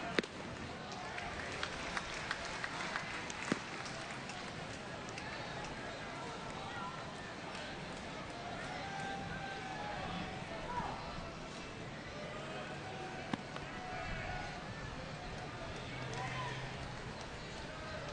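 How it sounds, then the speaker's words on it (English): A crowd murmurs at an LSU versus Lehigh college baseball game, a low, continuous wash of distant voices with occasional sharp knocks, running under a commentator's talk. "Crowd still murmuring to a certain extent"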